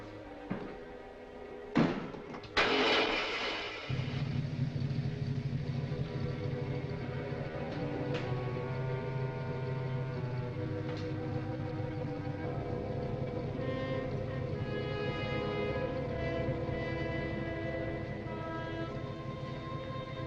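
A motor starting up in a 1946 mystery film scene: a few heavy thumps and knocks, then a loud, steady droning hum that runs on evenly without voices.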